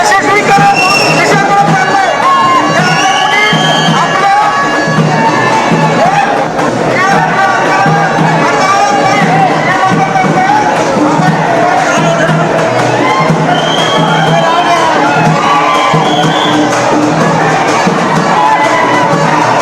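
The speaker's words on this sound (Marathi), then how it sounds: "सीएसएमटी रेल्वे स्थानकामधली ही गर्दी" A dense crowd of protesters packs the CSMT railway station in Mumbai during the Maratha protest, producing continuous loud shouting, cheering and chanting with overlapping voices and no letup.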